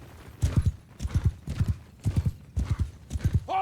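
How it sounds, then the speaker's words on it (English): Horses galloping in the Mount & Blade 2: Bannerlord battle game, a steady rhythmic clip-clop of hooves in repeated bursts, close and prominent, with a brief whinny at the end. "Horses!"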